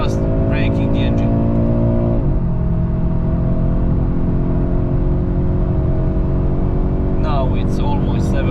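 Audi RS3 8Y engine revving steadily under light load in third gear toward 7000 rpm during run-in, a loud continuous drone with harmonics rising then settling, with a voice speaking briefly at the start and end.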